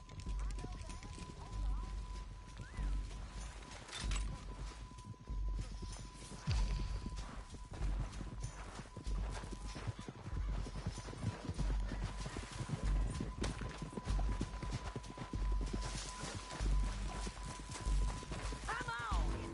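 Steady clip-clop of horse hooves trotting along with a synthetic, game-like quality in a Western simulator game, with people talking over it throughout.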